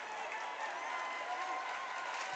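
Basketball arena crowd roaring and cheering steadily through a college game between Michigan and Indiana while a player steps to the free-throw line, a dense, loud wash of voices with no break.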